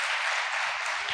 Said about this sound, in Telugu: చప్పట్లు కొట్టండి మేడంని బట్టి.